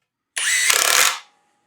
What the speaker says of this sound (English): here is a Metabo Triple Hammer, just to throw it into the mix for sound purposes and for speed.